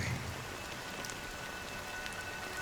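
Video game rain falling on a hard surface, a dense continuous patter with scattered louder drops, fairly close and even throughout.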